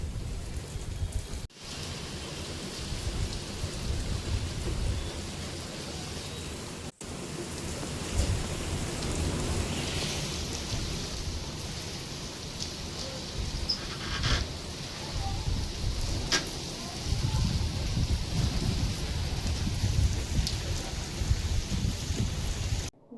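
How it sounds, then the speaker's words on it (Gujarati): Steady rain pours down throughout, with low thunder rumbling beneath the downpour and faint background sounds but no clear speech. "વરસાદ આવ્યો હતો"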